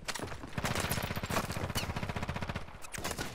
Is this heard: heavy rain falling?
no